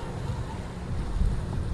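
Choppy sea and gusting wind at a pier in Manila make a steady rushing wash of water with buffeting wind noise on the microphone, continuous and fairly close.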